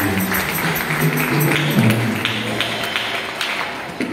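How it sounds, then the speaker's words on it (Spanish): Congregation at a Spanish-speaking church service clapping for the Lord, a continuous blended patter of hands under a low hum of voices and background sound, steady and moderately loud. "Den un aplauso al Señor"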